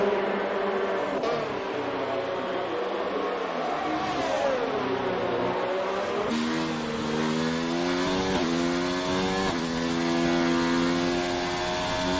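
A race car in a live-streamed session starting a flying lap, a continuous engine whine that sweeps up and down through gear changes as it accelerates, sustained and fairly loud with no talking.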